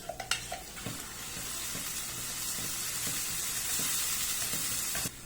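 Processed bell pepper sizzles as it hits a pan of browned onion paste, a steady frying hiss broken by several soft stirring knocks from a spoon, close and continuous.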